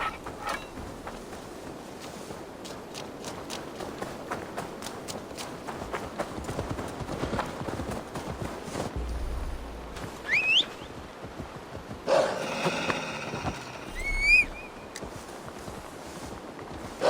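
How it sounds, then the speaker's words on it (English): Horse hooves clip-clopping under game music in Assassin's Creed Valhalla, with a few louder bursts near the end that may be a neigh or whinny, moderately loud and steady throughout. "Now to deliver Magni his horse."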